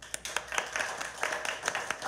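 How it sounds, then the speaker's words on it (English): Scattered claps from a small audience responding to a call for a round of applause at the close of a talk, a handful of distinct hand claps with uneven rhythm rather than a full ovation. "everybody round of applause."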